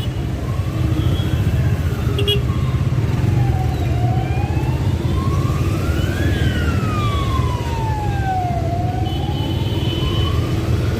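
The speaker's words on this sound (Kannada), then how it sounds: "ಆಂಬುಲೆನ್ಸ್ ಬರೋದು" An ambulance siren wails in rising and falling sweeps over the steady rumble of busy city traffic, loud and continuous throughout.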